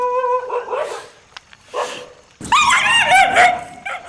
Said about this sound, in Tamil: ஏங்க நாய் அடிக்கிறீங்க? கடிச்சிட போகுது.